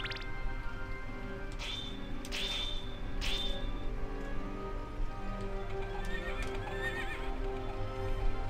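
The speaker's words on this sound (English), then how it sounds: "Horses again." Horses in the video game Castlevania Symphony of the Night, steady clip-clopping hooves with several sharp whinnies and neighs over a game soundtrack, clear and continuous.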